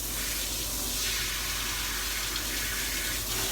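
A tap runs steadily into a sink while bath water for a show poodle is set to temperature, giving a continuous close hissing splash with slight shifts in flow and no speech.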